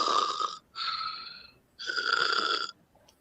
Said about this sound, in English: Can't you hear him back there breathing?